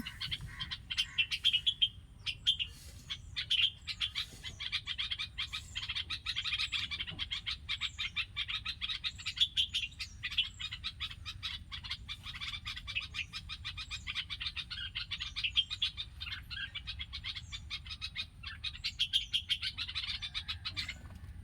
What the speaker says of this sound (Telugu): ఒక పక్షి అయితే చక్కగా అరుస్తుందండి ముద్దు ముద్దుగా.